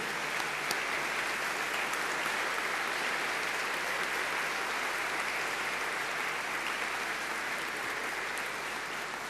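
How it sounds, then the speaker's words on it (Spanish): An audience applauding at a book launch event, a dense, steady wash of clapping from many hands that holds evenly at moderate loudness throughout. "a quien yo pido un aplauso por su testimonio en derechos humanos"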